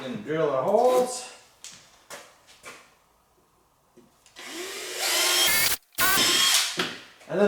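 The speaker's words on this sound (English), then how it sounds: "gonna drill our holes" Power drill boring screw holes for a rear spoiler on a Corvette C7 Power Wheels ride-on toy, two loud whirring bursts with a short break between them, close up, with voices talking near the start.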